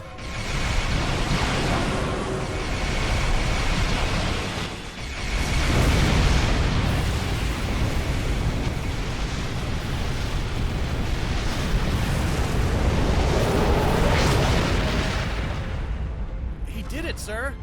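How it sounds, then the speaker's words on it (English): In the space game Star Trek Online, the planet killer blows apart in a massive, sustained explosion. A loud roaring blast fills the space, swells again partway through and rumbles on with crackling debris. "The planet killer has been destroyed."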